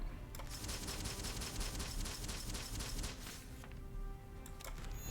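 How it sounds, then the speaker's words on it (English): Explosions rattle in the video game Breach Wanderers as a rapid, continuous barrage of crackling blasts, loud and dense for several seconds before easing into a few scattered pops. "taking a lot of explosions here"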